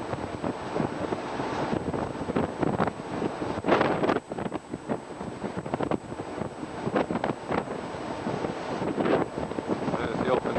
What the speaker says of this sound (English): quite breezy.